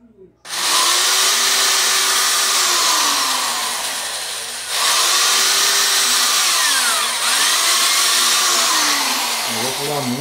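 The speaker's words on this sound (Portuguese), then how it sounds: "Eu acho que eu furei muito, né?" Power drill boring holes in a wooden broom handle, a loud steady motor whine that runs almost continuously after a sharp start, with slight pitch dips as the bit bites and short breaks in load.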